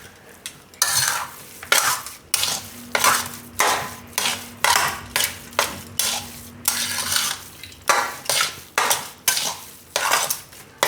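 A spoon scrapes and stirs jaggery through a thick sukhdi mixture in a pan with steady, repeated strokes about once a second, close and clear, with no voices.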